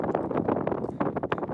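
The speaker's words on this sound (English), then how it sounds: "Sorry for the wind." Gusty wind buffeting the microphone on the ridge near Charleston Peak's summit in Nevada, a faint rough rumble in uneven bursts over a short stretch.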